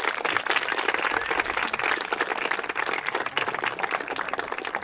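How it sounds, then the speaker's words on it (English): Graduation audience at the Hohenfels ceremony applauds faculty and staff, a dense, steady round of many hands clapping that carries evenly through the whole stretch without voices. "acknowledge them and thank them with another round of applause"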